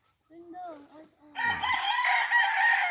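A gamefowl rooster at a breeding game farm crows loudly and close after a few softer clucks and calls.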